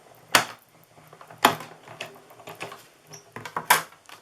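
A die-cutting machine cuts card stock for a tri-fold card, with sharp clicking and rattling bursts at irregular intervals, several loud snaps standing out against quieter mechanical ticking.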